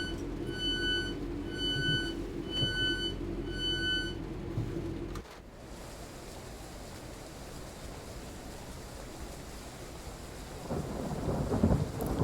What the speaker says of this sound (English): Still hear that thunder.